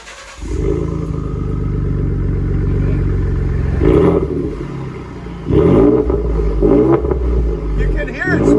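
Ford F-150 EcoBoost V6 with an aftermarket exhaust and 4-inch angle-cut black tip, revving loudly and steadily up close, with a brief lull then another strong rev and rising turbo spool; no talking over it.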